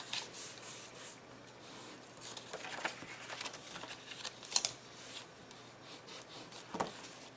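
Paper envelope sides folded up on a punch board, soft rubbing and crinkling scrapes that come close and faint in irregular bursts, with a sharper crackle partway through and no one speaking.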